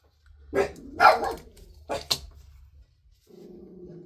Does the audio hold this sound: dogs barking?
yes